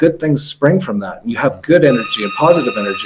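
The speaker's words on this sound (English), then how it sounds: "Sorry about the phone." An electronic telephone ring of steady tones, moderately loud but partly masked by someone talking continuously over it.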